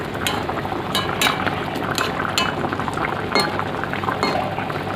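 Snakehead fish curry with mango bubbling in a pot, a dense, steady simmer with occasional sharp clinks of a utensil against the pan, close and continuous with no talking.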